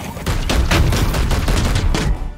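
Close, loud gunfire in the video game Warhammer 40,000: Chaos Gate - Daemonhunters: a rapid burst of shots in quick succession lasting about two seconds, then cutting off.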